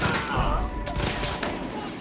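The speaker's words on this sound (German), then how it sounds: "Hier ist irgendwas explodiert und dann wurde geschossen." Dense bursts of rapid gunfire in the video game Far Cry 5 crackle over a rumbling background, with sharp cracks and a thudding explosion impact, loud and busy.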